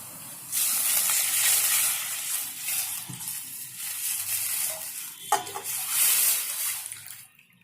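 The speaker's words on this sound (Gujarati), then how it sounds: "આપણે સરગવાના રસ નાખી દઈશું" Drumstick juice poured into a hot pan for drumstick soup, a rushing splash and hiss of liquid hitting the pan that settles into bubbling, close and without talk.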